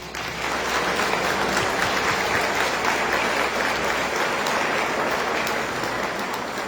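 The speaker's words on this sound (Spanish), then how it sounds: "Vamos a darles un aplauso." Congregation applauding at a Palm Sunday Mass, a steady, dense wash of many hands clapping that fills the church for several seconds and fades slightly toward the end.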